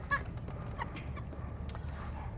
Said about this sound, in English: These chickens are right at 4 weeks old